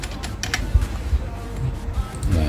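Computer keyboard typing in a Photoshop poster design session, a quick run of soft key clicks under low background noise, close and moderately loud.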